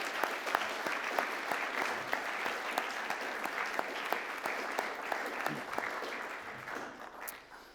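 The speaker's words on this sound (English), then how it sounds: "a round of applause to acknowledge our wonderful parents and guardians" Audience applause for parents and guardians at a Year 12 school valedictory ceremony, steady dense clapping from a large crowd sustained for several seconds before thinning out near the end.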